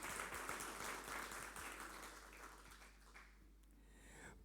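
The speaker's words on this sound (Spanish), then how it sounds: "Denle un aplauso." Congregation applauding during a Sunday morning church service, a dense, steady clapping from many hands that fills the room and tapers off slightly toward the end, with no talk over it.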